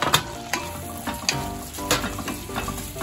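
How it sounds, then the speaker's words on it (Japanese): Onions sizzle as they sauté in melted butter, a close, steady frying crackle punctuated by regular scrapes of a spoon or spatula stirring the pan. "バター溶かしたら、というか、玉ねぎを炒めていきます"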